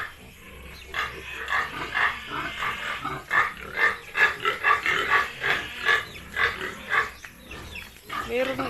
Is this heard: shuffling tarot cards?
no